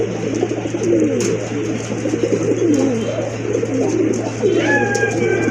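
Pigeons at a large breeding farm coo repeatedly in low, rolling phrases, close and fairly loud, over a steady background hum, with a brief brighter call near the end.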